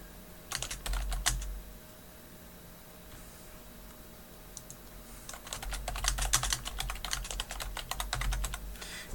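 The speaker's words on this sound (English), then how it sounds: "I'm going to start typing." Typing on a computer keyboard, with quick bursts of clattering keystrokes near the start, a quieter pause, then a longer, denser run of rapid key taps.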